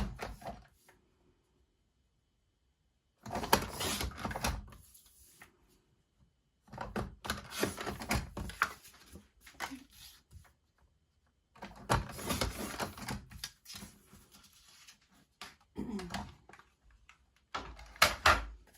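A trimmer blade slides through a photo mat as it is cut down to 3.5 by 3.5 inches for a criss-cross stripes layout. Four separate scraping, rasping passes are each a few seconds long, with quiet gaps between them.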